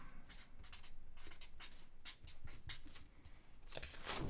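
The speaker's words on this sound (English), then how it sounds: "Write it down." A pen scratches quietly on paper in a series of short, quick strokes with brief pauses between them, close by with no talking.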